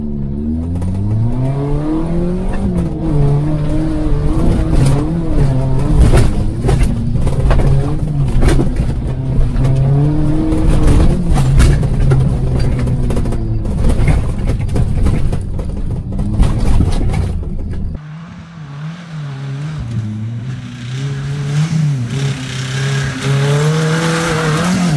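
A Volkswagen Golf revs hard and keeps its engine howling at high revs through a tyre-burning session, a loud, sustained roar that wavers up and down for about eighteen seconds before dropping to a lower, rougher idle-like drone.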